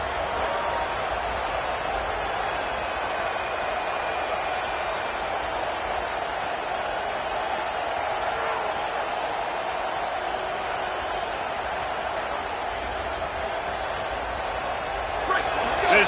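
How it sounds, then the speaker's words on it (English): A college football stadium crowd keeps up a steady, roaring wall of cheering and noise for the whole stretch, with no break or lull throughout. "This crowd rising up, sensing that its defense needs some help."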